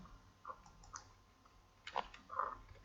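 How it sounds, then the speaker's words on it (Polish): A computer mouse clicks quietly a few times, including a quick double-click to open a file in a word processor, sparse, soft and close on a quiet desk with no speech. "I dwukrotnie klikam w celu otwarcia."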